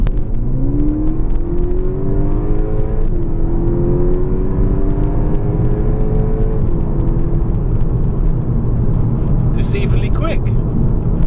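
A VW Golf GTI Edition 35 accelerating hard from inside the cabin, its engine note climbing smoothly through the revs in long rising sweeps, steady and loud, easing as it shifts, with a faint clatter at the end.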